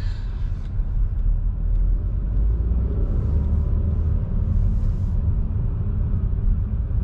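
Low, steady engine rumble from inside a new car moving through heavy traffic, a continuous drone at even loudness throughout with no talk.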